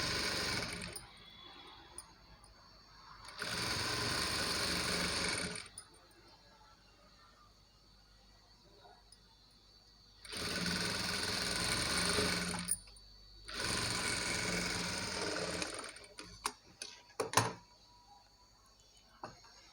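Sewing machine top-stitching cloth piping on a sleeve, three steady whirring runs of a few seconds each separated by quiet pauses, close, then a few clicks and knocks near the end.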